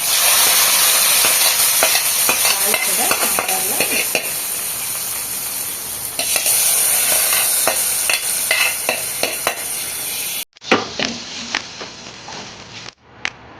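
Hot tempering poured into sambar: a loud, continuous sizzle and crackle fills most of the moment, then cuts off abruptly and gives way to a few sharp clinks and knocks of a pan or ladle.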